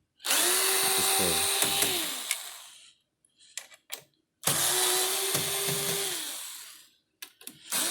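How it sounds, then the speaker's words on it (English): A power drill loosens screws on a Samsung FlexWash washer, with two close, loud bursts of high whining spin, each about two seconds long, followed by brief clicks and handling noises. "A couple screws right here that we're gonna loose."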